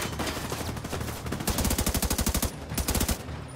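Video game gunfire in The Division 2, with sustained rapid bursts of automatic weapon fire, loud and close, in two main volleys with brief pauses between them.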